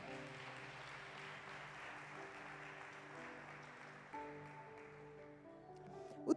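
Church congregation clapping in praise during an evening service, a steady, moderately distant wash of applause over a sustained organ or keyboard chord.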